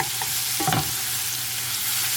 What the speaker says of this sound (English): And basically we just wanna saute them.